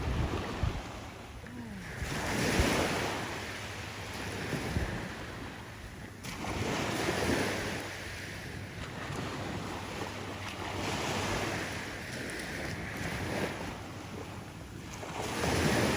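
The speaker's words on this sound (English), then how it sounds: "Just listen to that water." Ocean waves wash in and recede at North Beach on Fort De Soto's Gulf shore, a steady surf rising and falling in slow swells with wind buffeting the microphone and no voices.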